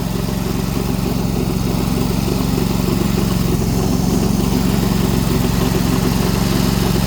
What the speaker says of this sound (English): the snowblower kind of helps